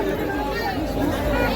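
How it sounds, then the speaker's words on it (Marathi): A huge crowd at a Dussehra festival keeps up a dense, loud chatter of many overlapping voices. It is close and continuous. "बघू शकता आजूबाजूची गर्दी प्रचंड"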